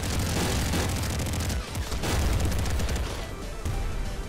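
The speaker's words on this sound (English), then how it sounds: "So the auto super flat cannon." Auto super flat cannon firing in Nuclear Throne, a loud, dense barrage of booming blasts and rapid repeated shots, continuous with brief dips in intensity, no talking over it.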